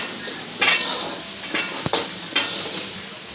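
Onion and potato tempering sizzles in hot oil for poha, a steady frying hiss broken by a few louder bursts as the pan is stirred, close and alone with no voices.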